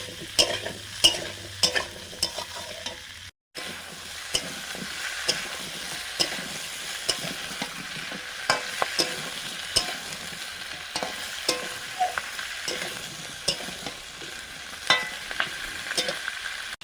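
Four kinds of vegetables fry lightly in a pan, giving a steady sizzle broken by sharp clicks and scrapes from stirring. It sounds close, has a brief cutout early on, and carries no voices.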